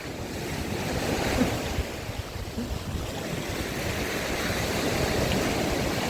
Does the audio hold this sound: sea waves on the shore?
yes